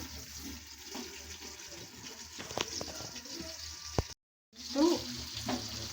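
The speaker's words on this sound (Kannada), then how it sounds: "ಇವಾಗ ಇದ್ರ ಮೇಲೆ ಒಂದು ಪ್ಲೇಟ್ನ ಮುಚ್ಚಿ ಫ್ರೈ ಮಾಡ್ಕೊಳ್ಳೋಣ" Marinated fish fries in a pan covered with a plate, a muffled sizzle with scattered clatters and knocks, a sudden brief silence, then louder bubbling and frying; a voice murmurs faintly.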